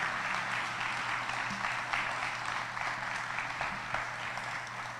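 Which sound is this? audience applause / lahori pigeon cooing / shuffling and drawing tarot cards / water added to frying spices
audience applause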